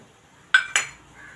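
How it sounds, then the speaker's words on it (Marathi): Crushed fennel and coriander seeds tipped into oil in a pan on a slow gas flame give two quick metallic clinks close by, followed by a faint soft sizzle. "त्याच्यामध्ये मी थोडंसं तेल घालत आहे त्यामध्ये बडीशेप आहे जी मी कुटून घेतलेली आहे ती घालत आहे"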